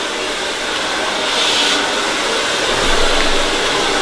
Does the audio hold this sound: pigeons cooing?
no